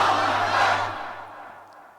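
A crowd at a religious gathering in Budgam loudly shouts the Takbir slogan in unison, a strong massed roar that swells briefly and then fades out, leaving a low steady hum beneath.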